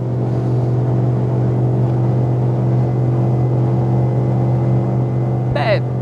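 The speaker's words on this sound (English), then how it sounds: "I feel like hearing this 8-cylinder sing" A steady, loud V8 boat engine drone holds throughout, with a brief higher-pitched rising tone near the end as the motor revs hard past its maximum speed.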